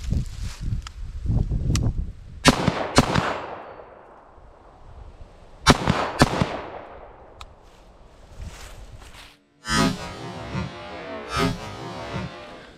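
Rifle shots through a Surefire Warcomp muzzle device, several sharp cracks in irregular bursts with fading reverberation, mixed with handling clatter and rustling nearby.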